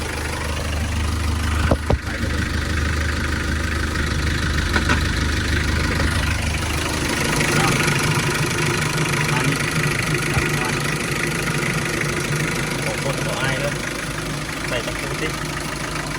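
A car engine idles steadily with a low rumbling chug, close by, continuous throughout with some faint background noise.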